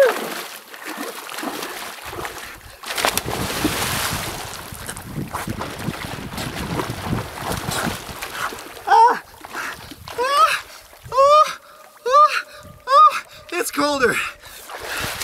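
A man plunges into a cold glacial lake in Peru, with wind buffeting the microphone, then repeated loud splashes and gasping, yelping cries as he thrashes in the water.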